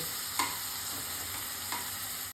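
Chopped tomatoes frying in a pan on a low flame for savory vermicelli give a steady, even sizzle with a couple of soft stirring scrapes, close and continuous with no voices.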